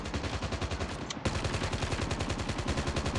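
Rapid automatic gunfire in the mobile shooter Call of Duty Mobile, a steady loud stream of shots with a brief pause near the middle, then continuing without any voices.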